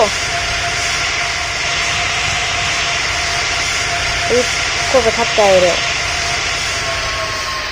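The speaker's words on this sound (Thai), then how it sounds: "หลังนี้เครื่องบินก็อาจจะแท็กซี่ไปอีก นานเลยนะ" An airplane's engines roar loud and steady from inside the cabin as it taxis after landing, a continuous hiss-laden drone with brief speech near the end.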